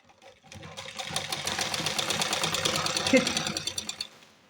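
Sewing machine stitching two fabric pieces together for a garment, a rapid mechanical clatter that starts, runs steadily for about three seconds and then winds down, heard close with a voice speaking over it.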